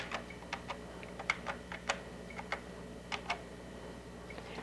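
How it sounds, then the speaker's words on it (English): Computer keyboard arrow keys tapped while moving between table cells in Word 6.0 for Windows, a dozen or so light, close clicks in uneven quick succession against a quiet background. "or use our arrow keys."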